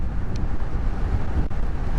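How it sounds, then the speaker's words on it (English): Strong wind buffets a lavalier microphone on a GoPro outdoors on a windy day while riding, making a loud, continuous low rumble with a few brief knocks and no speech. "But it's very windy, which is what I wanted."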